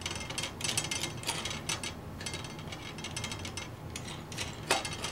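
Antenna hardware being fastened on a ham radio 2m/70cm vertical dipole, nuts with flat and lock washers, giving close, quiet ratcheting and metallic clicking in short bursts with no talk.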